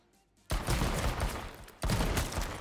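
Dense, sustained bursts of rapid pistol gunfire from a video game, loud and continuous with a brief break before firing resumes, no talk over it.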